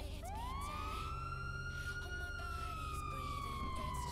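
A police car siren in a Spanish-language roleplay video game, wailing steadily and loudly as its pitch rises and then slowly falls, sounding alone without talk over a faint background hum.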